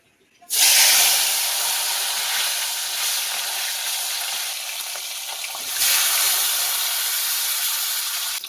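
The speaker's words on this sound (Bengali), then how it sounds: "নুন হলুদ মাছগুলো ভেজে নেব" Fish pieces rubbed with salt and turmeric hit hot oil with a sudden loud hiss, then sizzle steadily and closely, surging again partway through.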